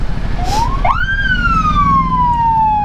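A police car siren sounds close by on a city street: one loud rising whoop that sweeps up and then slowly glides down, over steady traffic rumble.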